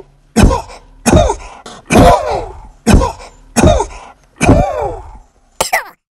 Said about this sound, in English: coughing up a storm and her throat completely jammed